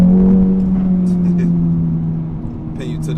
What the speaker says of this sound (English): It revs so freely too.